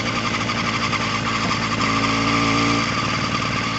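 A motorcycle engine idling and rumbling steadily at night as the rider rolls slowly and blips the throttle, a loud continuous close-up drone with a slight shift in pitch near the end.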